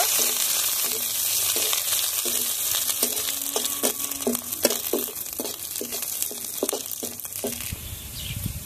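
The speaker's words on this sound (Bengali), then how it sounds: "রসুন কুচিটাও দিয়ে দেব, একটা তেজপাতা, একটা শুকনো মরিচ। এখন এগুলো সব একসঙ্গে ভেজে নেব।" Chopped garlic, onion, a bay leaf and a dried chili frying in hot oil give a loud, steady sizzle, with a rhythmic scrape of a spatula stirring the pan through it.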